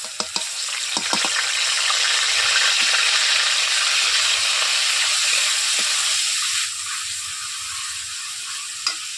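Green chillies with a ground paste of ginger, garlic and onion frying in hot oil for a Bengali rui fish dish, a steady loud sizzle with a few sharp spits and clicks near the start, easing slightly toward the end.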